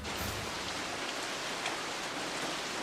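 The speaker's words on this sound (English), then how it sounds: "It's raining outside." Steady, dense rain falls outdoors, a broad even hiss that holds throughout with a few faint drop patters; no voices.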